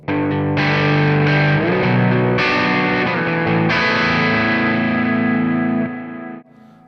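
Electric guitar on the bridge pickup through a Quad Cortex amp modeler's first gain stage, a lightly driven tone, a few chords strummed and left to ring, then decaying to quiet.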